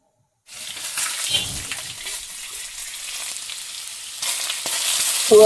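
Onion fritters made from onion and gram flour batter fry in oil at a roadside tea stall, a steady bubbling sizzle with a few clinks and stirring sounds, loudening near the end, no voices.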